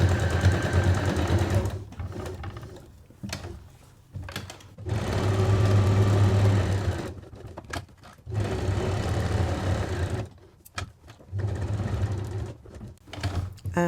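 Sewing machine stitching a zipped make-up bag, binding lining to outer fabric, runs in several loud bursts of steady whirring, broken by short pauses where the needle stops to pivot.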